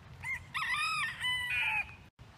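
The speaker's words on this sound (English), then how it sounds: "I think it's a rooster or a chicken." A rooster crows once up close, a loud, drawn-out cock-a-doodle-doo with a rising start and a wavering, strained finish, over a low background murmur.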